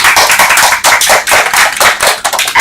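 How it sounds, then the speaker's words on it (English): Close, loud clapping from a small Toastmasters club audience for the Toastmaster of the day, a run of bursty hand claps with brief dips, no voices. "Please give him a big round of applause."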